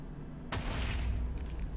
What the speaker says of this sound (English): God, what are those explosions?